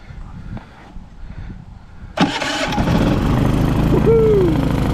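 A generator engine with a freshly cleaned, previously gummed-up carburetor cranks, catches suddenly and settles into a loud, steady running roar after a short stretch of quieter background.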